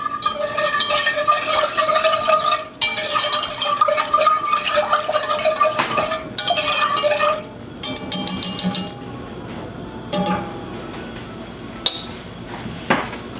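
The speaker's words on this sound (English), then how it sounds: "you whisk it so that it doesn't stick on the bottom and get burned" A whisk beats cream and sugar in a metal pot, scraping the bottom to keep it from burning, making rapid rhythmic metallic clinks in bursts that slow to a few scattered taps.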